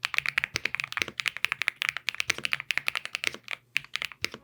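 Close-up typing on an Epomaker TH85 mechanical keyboard: rapid, irregular clacky keystrokes in quick bursts with a few brief pauses, crisp and near, with no voices.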